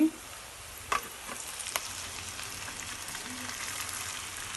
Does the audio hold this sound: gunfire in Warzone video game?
no